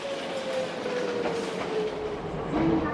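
A 1953-built train rolls along mountain rails with a steady rumbling clatter, a faint thin wheel squeal drifting through, and a louder squeal near the end.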